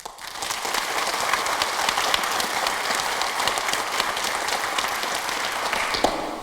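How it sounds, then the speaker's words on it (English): Audience applause for the military at a Classics For a Cause arts council concert, a dense sustained round of clapping from a large crowd that starts abruptly and carries on evenly, close and full. "Let's give our military here and out in the country, wherever they are at tonight, a rousing round of applause."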